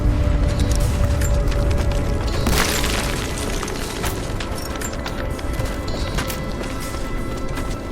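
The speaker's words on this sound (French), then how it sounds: "Grenade!" Grenade explosion in the video game Rise of the Tomb Raider: a heavy boom erupts amid ongoing combat noise and debris crashes, then fades into a rumbling battle with scattered impacts.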